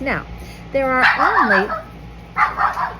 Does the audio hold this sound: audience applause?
no